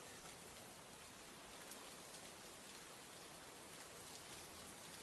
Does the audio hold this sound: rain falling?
yes